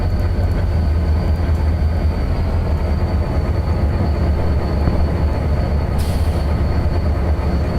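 SD40T and SD45T diesel locomotives running in the Trainz railway simulator: a loud, steady engine drone with rolling rail noise that holds constant throughout, with no voices.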